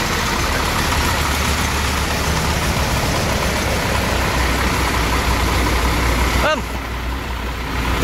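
Engine of an older Rosalia Indah bus idling during a routine check, a loud, steady low rumble throughout, with a brief mechanical squeal near the end.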